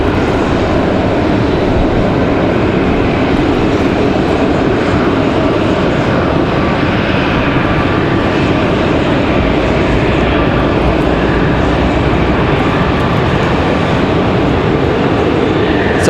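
A Delta Connection CRJ 900LR regional jet arriving from Newark, on a windy day at Raleigh-Durham airport, roars steadily as one loud, continuous engine rumble.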